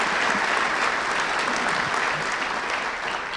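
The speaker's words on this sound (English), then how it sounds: "Please let's give her a big round of applause." Steady, full audience applause fills a ceremony hall for the MC, a continuous wash of many hands clapping at even loudness throughout with no voices rising above it.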